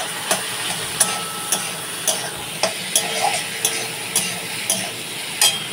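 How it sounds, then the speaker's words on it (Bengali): Onions fry in hot oil in a pan with a steady sizzle, while a spoon scrapes and clicks against the pan at regular intervals, close and fairly loud. "পেঁয়াজগুলো ভেজে নিচ্ছি ভালো করে"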